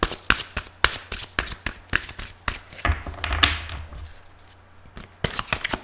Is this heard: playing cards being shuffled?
yes